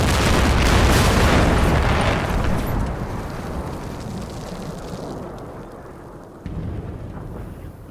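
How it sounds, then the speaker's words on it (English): Artillery barrage in the World War II wargame Combat Mission Final Blitzkrieg: a loud, rolling boom that slowly decays into a fading rumble, then a second, softer thud near the end. "I think it'll be ceasefire after this artillery barrage"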